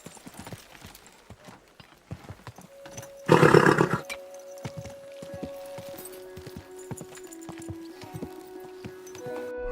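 Horse in the medieval game Kingdom Come: Deliverance II, a loud burst of neighing about a third of the way in, with clip-clop hooves and town ambience around it.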